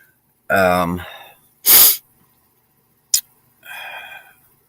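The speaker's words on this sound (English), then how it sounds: "I have the sneezes again this morning." A single sharp sneeze between short voiced sounds and a quick breathy noise, close and fairly loud against a quiet background.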